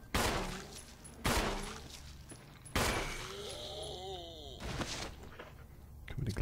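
Beretta pistol gunshots in the video game Resident Evil HD Remaster, three sharp, loud reports spaced about a second and a half apart, with game ambience, a tonal swell and a voice between them.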